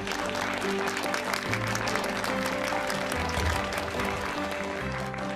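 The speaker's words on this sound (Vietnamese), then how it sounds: "mọi người có thể cho một tràng pháo tay" Audience applause at a public announcement in a Vietnamese-dubbed TVB drama, a steady wash of clapping held at even strength for about five seconds over low background music.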